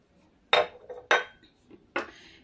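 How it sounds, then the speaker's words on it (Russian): Salted green onions pressed down with a small masher in a bowl: three sharp, separate knocks with lighter clinks between them, close and fairly quiet. "И маленькой толкушкой мы его приминаем, чтобы он был помягче"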